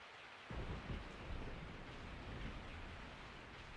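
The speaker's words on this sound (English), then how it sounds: "I woke up to the sound of falling rain." Heavy rain and rolling thunder from the Resident Evil 3 video game start abruptly and continue as a dense, steady roar with low rumbles, no voices.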